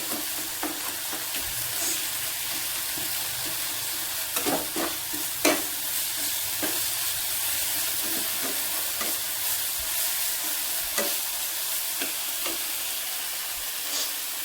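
Mustard and poppy seed paste frying in a pan for fish curry, a continuous close sizzle with intermittent scraping stir strokes and a few sharper knocks of the spoon.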